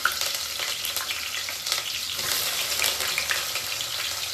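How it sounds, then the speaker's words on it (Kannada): Chopped onions dropped into hot oil in a pan for palak chicken chops, giving a strong, close, hissing sizzle that stays loud and steady with stirring scrapes. "ಇವಾಗ ಆಯಿಲ್ ಬಿಸಿ ಆಗಿದೆ. ಸೊ ನಾನು ಇದಕ್ಕೆ ಹೆಚ್ಕೊಂಡಿರುವಂತ ಈರುಳ್ಳಿನ ಹಾಕ್ತಾ ಇದ್ದೀನಿ"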